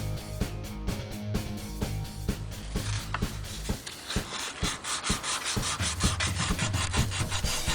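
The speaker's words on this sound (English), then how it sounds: "used the 1000 grade sandpaper, wet sandpaper, to shape it up" Wet 1000-grade sandpaper is rubbed over the spoiler part of a Corgi diecast Porsche Carrera 6 in quick, close scratchy strokes, a steady rhythmic rasp.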